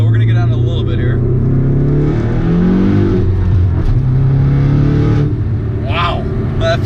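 Ford Focus ST with a big turbo, gutted interior and exposed exhaust, engine droning loud and steady from inside the cabin as it accelerates, pitch rising and dropping through a shift, with a voice speaking briefly over it.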